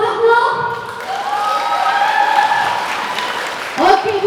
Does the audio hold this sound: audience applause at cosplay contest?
yes